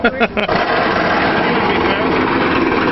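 A reciprocating saw cuts through a demolition derby car's frame in the pits at a county fair, a loud, steady buzzing rasp that runs continuously after a brief burst of voices at the start.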